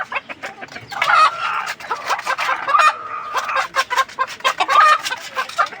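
Farm chickens dust bathing in sand cluck continuously and fairly close, with overlapping bursts of chatter from several birds and a few higher squawks.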